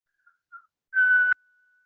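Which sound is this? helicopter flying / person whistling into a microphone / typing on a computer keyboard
person whistling into a microphone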